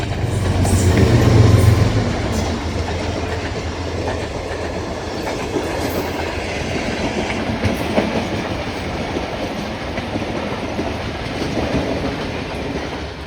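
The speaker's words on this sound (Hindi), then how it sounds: "सुबह खराम एक्सप्रेस रेल कार 103 आप काफ़ी अच्छी स्पीड से बदायूं रेलवे स्टेशन को क्रॉस करते हुए गुजरी है जी।" A Suhaildev express rail car, number 103, rushes through Badaun railway station at speed, a steady loud rumble and clatter of wheels over rail joints sweeping past, strongest at first and then holding as a continuous roar.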